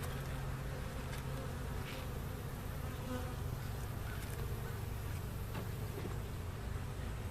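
A dense, steady hum of honeybees buzzing around a hive frame of capped brood and nectar from a tiny swarm, continuous and close, with no talking.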